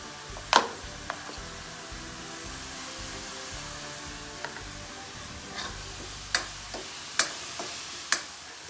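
Butter tadka sizzling in a pan while dal makhani cooks, a faint steady crackle under sharp intermittent clicks and taps of a spoon against the vessel.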